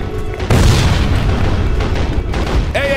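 A loud, close explosion booms through a shooter game as an anti-aircraft gun crew is blown apart in Sniper Ghost Warrior 2, a heavy sustained blast with rumbling debris and no talk.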